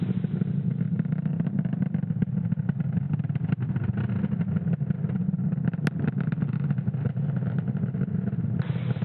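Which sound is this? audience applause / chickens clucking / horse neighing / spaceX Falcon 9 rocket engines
spaceX Falcon 9 rocket engines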